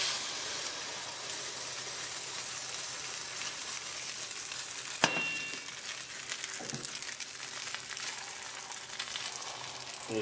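Galette batter poured into a hot frying pan, sizzling and hissing steadily, with a brief clatter midway and faint handling noises underneath.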